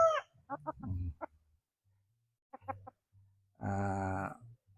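Ten-month-old Gary Gilliam Roundhead pullet makes short clucking calls in a few brief bursts, then a longer, louder vocal cry near the end, with quiet pauses between.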